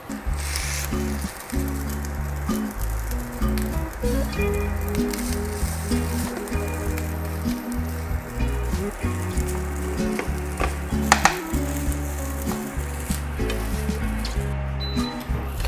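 Nasi goreng seasoning sizzling in a hot pan, a steady close frying hiss with soft stirring scrapes and spatters throughout, no voices.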